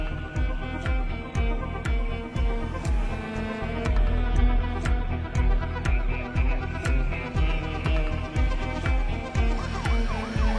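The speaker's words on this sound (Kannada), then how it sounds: "ಕುಲ್ಲಂಬಾಡಿ ಏರಿಯಾದಲ್ಲಿ ಒಂದು ಆಂಬ್ಯುಲೆನ್ಸ್ ತುಂಬಾ ಹೊತ್ತಿಂದ ಓಡಾಡ್ತಿದೆ." An ambulance siren in a dubbed South Indian film, wailing in fast, steady repeating pulses for the whole stretch, loud and continuous with no talk over it.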